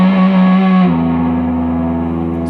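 A distorted electric guitar with effects, unmuted strings left ringing into a sustained, buzzing wash after the first chord, alone and close.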